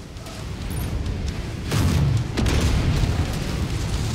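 Heavy weapon fire and booming explosions from MechWarrior 5 mech combat, a continuous rumbling roar with a louder burst of blasts midway, no talk over it.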